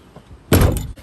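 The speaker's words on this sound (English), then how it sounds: "we're gonna have to shut the doors again" Van door shut on a rainy day in Snowdonia, a single loud slam after a quiet moment, with a short rattling tail as it settles.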